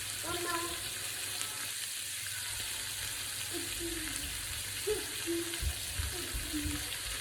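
Beef steak searing in a hot pan for bistec borracho, a constant close sizzle and crackle running throughout, with a few faint clinks and short bits of talk early on.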